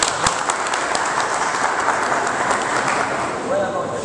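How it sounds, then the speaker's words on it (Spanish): An audience at a supporters' gathering in Santo Domingo Este breaks into continuous, fairly loud applause, a dense crackle of clapping hands that holds steady throughout before easing slightly at the end. "Daniel Mato, un aplauso."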